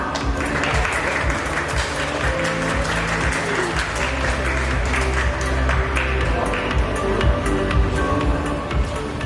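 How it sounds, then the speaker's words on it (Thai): Applause from guests at a car showroom opening in Thailand, sustained clapping from a gathered crowd with sharp hand taps over a dense bed, continuing steadily with faint voices underneath. "ขอเสียงปรบมือ"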